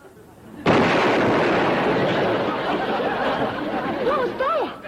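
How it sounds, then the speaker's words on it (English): A cannon fires as a sound effect in a TV sitcom episode: one sudden loud blast followed by a long, sustained rumbling roar, with faint voices and laughter creeping in near the end. "What was that? Sounded like a cannon."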